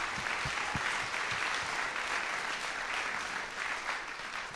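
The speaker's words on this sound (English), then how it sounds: "Let's give a quick additional round of applause to the fantastic choirs" Audience applause for the choirs at a high school spring concert in Oak Park, a dense, even wash of clapping from a full hall, slightly distant and sustained throughout.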